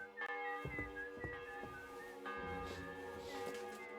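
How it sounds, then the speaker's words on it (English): A church bell rings in the video game Kingdom Come: Deliverance II, several resonant strikes a fraction of a second apart, each leaving a long ringing tail over a faint background. "The bell's ringing for Hans the 5th time."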